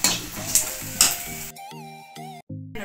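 Dried red chillies sizzle and crackle in hot oil in a pan, a dense, close hiss with a few sharper bursts, cutting off midway as a tonal melody takes over.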